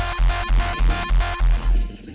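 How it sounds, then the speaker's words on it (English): Electronic uptempo kick drum with its bass tail cut short halfway through, hitting in a steady fast pulse of booming low thumps over a dense, buzzing synth layer that fades near the end. "So what we could do, we could automate the bass to end halfway through the kick."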